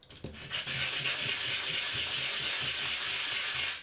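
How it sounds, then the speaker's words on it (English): Sandpaper rubs steadily against a part of a cheap fountain being modified, a continuous close, hissing scrape that starts after a brief bump and holds evenly for several seconds without talk. "always use sandpaper."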